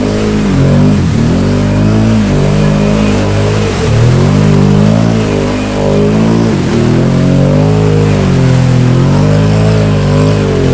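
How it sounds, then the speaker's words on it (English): A Can-Am Outlander 850 XMR ATV with an MBRP performance exhaust accelerates hard and loud, with its engine note climbing in repeated surges and dipping briefly between rises, close up throughout. "Unlike Seth, I'm just gonna hit the gas and pray."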